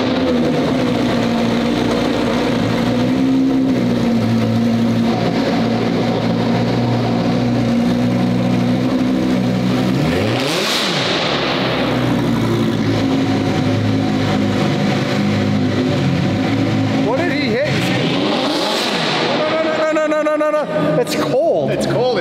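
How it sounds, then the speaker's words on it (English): Car engine cold-starting after sitting unused for two weeks, then running and revving in a garage, with a steady loud drone, a couple of rising revs and people talking over it. "Cold start. Fired up. Actual cold start."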